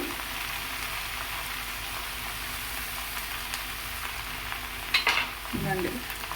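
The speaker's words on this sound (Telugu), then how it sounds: "ఇవి వేసుకొని వీటిని ఫ్రై చేసేసుకోవాలి" Garlic, tamarind and tomato frying in a pan for gongura chutney, a continuous soft sizzle with a brief stirring clatter near the end.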